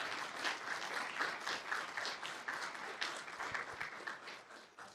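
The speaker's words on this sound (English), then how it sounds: "So let's give them a round of applause." An audience at the CAMS Industry Summit at Northwood applauds the student executive board with sustained, even clapping that fills the room, steady and moderately loud from start to finish.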